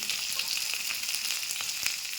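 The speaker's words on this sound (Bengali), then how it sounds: "আলুটা ভেজে নেবো" Potatoes fry in hot oil with turmeric, a steady, dense sizzle and crackle heard up close and alone.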